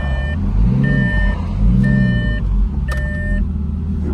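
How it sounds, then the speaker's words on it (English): Repeated electronic reversing beeps sound while a Lamborghini Gallardo backs up in a garage during a driver-side axle replacement, three loud evenly spaced tones over a steady low engine rumble. "Barely probably hear it over the beeping noise."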